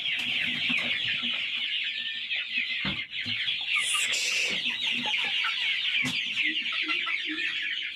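Chickens on a poultry farm cluck steadily in a dense, continuous chorus of many birds close at hand, with occasional louder calls and brief knocks breaking through.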